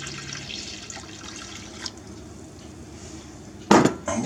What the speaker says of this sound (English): Pour the milk in with the yeast and the sugar.